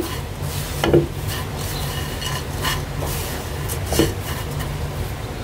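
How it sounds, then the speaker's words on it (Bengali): Powdered milk is mixed into a mixture with a utensil, soft scraping and rubbing strokes against a pan with two louder knocks, fairly close and steady. "এখন ভালোভাবে মিশাই নিচ্ছি।"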